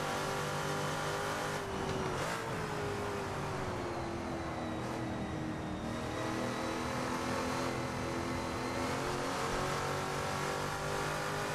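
A race car laps the 1960 Silverstone circuit in the Assetto Corsa racing game, its engine a continuous loud drone with rising and falling pitch through gear changes and corners, with no voices.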